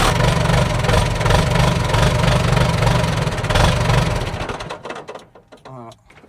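A farm tractor's diesel engine running on a freezing morning, a steady, loud, rough chugging that drops away after about four seconds, followed by faint clicks and a brief voice.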